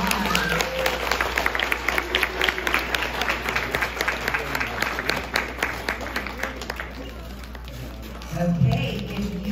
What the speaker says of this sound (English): give the students a round of applause.